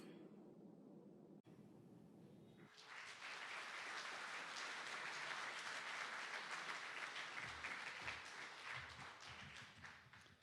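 An audience applauds Hall of Fame inductees at a ceremony: after a quiet, muffled opening, dense clapping swells in at about two and a half seconds and stays loud and sustained, thinning a little toward the end.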